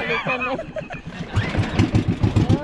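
An engine is cranked but fails to catch, giving a rapid rhythmic chugging that follows a brief burst of voices at the start.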